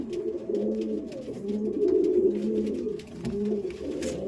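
A tippler pigeon coos close by, low throaty calls repeating steadily over a few seconds, with no talking.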